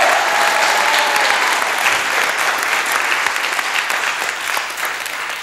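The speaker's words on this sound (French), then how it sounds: "Je voudrais qu'on vous applaudisse une nouvelle fois." A TV game show studio audience applauds the returning contestants with loud, dense, continuous clapping from many hands. It holds steady and tapers only slightly near the end.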